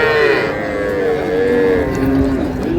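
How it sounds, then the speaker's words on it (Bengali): Cows and calves at a rural cattle market moo loudly and close, long drawn-out lowing calls overlapping one another with a steady crowd murmur beneath. "এখানে গাভী বাছুর, বেশ সুন্দর কোয়ালিটির"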